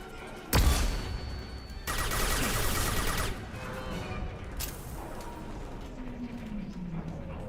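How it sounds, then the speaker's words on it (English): Flashbang grenades going off in a Mass Effect Legendary Edition firefight: a sharp bang opens, followed by a dense burst of popping gunfire-like blasts, then a quieter rumbling tail and fading combat noise. "Watch out, flashbangs!"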